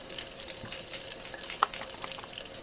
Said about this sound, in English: So when I'm rinsing the brush